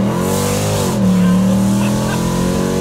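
A Mercedes-AMG SLK55 accelerates hard with a loud, close engine roar and rising harmonic whine that dips briefly as it shifts, then pulls again, steady and powerful throughout.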